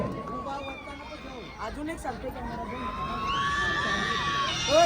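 A crowd at an outdoor Holi festival ground in Chirle cheers and shouts for two performers, with children's high shrieks and whoops over a steady babble that swells louder toward the end, the sound close and continuous throughout.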